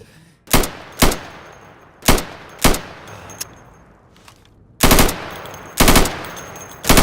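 Rifle fire at plywood-backed targets in the shooter game Insurgency II: loud close shots, first in quick pairs and then sharper single and double bursts, separated by short gaps, with no speech.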